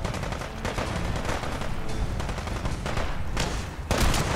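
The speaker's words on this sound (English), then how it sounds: "Good shooting, Tex." Gunfire in the video game Fallout 4: dense, loud volleys of shots roll almost continuously, with heavier bursts near the middle and at the end and no talk.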